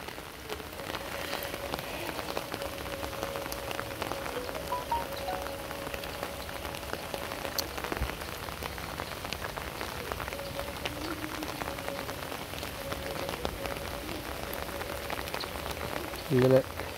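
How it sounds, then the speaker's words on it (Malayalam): Heavy, unbroken rain pours down beside the Neelimangalam river during a fishing outing, a constant close hiss of drops on surfaces throughout, with no one speaking. "നല്ല മഴയാണ് കേട്ടാ"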